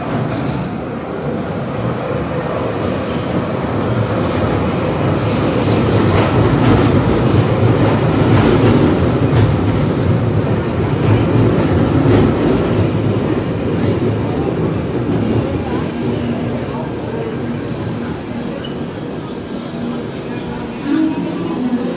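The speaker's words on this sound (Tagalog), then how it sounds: "Ayan po ang train dito." A London Underground train on the Edgware line arriving, a loud, close rumble of wheels on rails building and then holding, with rail squeals and hissing toward the end and faint voices underneath.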